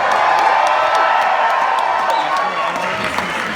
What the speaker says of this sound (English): I want to hear a bigger cheer before we start this movie.